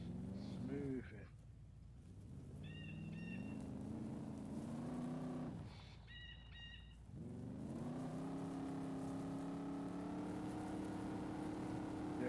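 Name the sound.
Range Rover car driving in DayZ video game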